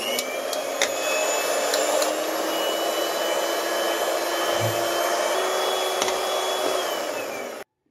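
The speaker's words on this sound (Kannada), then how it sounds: "ನಾನಿಲ್ಲಿ ಎಲೆಕ್ಟ್ರಿಕ್ ಬೀಟರ್ ಇದೆ, ನಾನು ಯೂಸ್ ಮಾಡ್ತಾ ಇದ್ದೀನಿ" Electric beater whirring steadily through mango ice cream mixture, a loud continuous motor drone close up that holds for several seconds before cutting off abruptly, with no talk.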